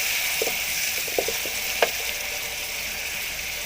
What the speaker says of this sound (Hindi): ऑयल गर्म हो चुका है तो अब हम इसके अंदर डाल देते हैं प्याज